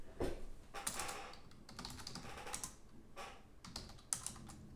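Steady clattering of fingers typing on a computer keyboard, with irregular bursts of keystrokes and a few louder key hits, close and alone without talk.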